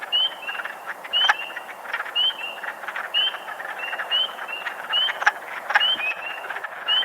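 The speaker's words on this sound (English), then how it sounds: "you hear this huge chorus of wood frogs" A chorus of wood frogs calls at a vernal pool, rapid clucking, duck-like croaks repeating in overlapping bursts over a quiet background.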